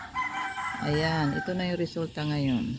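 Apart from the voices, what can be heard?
rooster crowing in the morning after a storm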